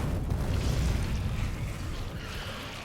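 Rocket explosions tearing through enemy bases in Factorio, a dense rumbling barrage of blasts that is loudest at first and then tapers to a steady background roar.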